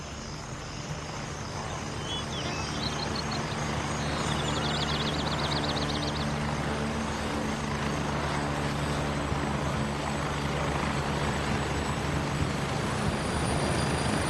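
A helicopter in the military shooter game Grey Zone Warfare gives a steady, dense rotor and engine drone that holds loud and constant throughout, with no voices over it.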